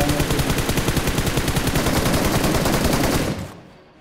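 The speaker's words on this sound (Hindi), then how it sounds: "अभी हमें ऊपर हिल से बंदों की फायरिंग की साउंड आ रही थी" Gunfire in BGMI coming from a hill: a rapid, loud stream of automatic shots in a steady rhythm for about three seconds, then cutting off abruptly and fading to quiet.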